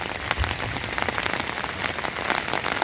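Heavy rain pours steadily onto surfaces during a prolonged downpour over flooded paddy fields, a dense, close patter with no voices.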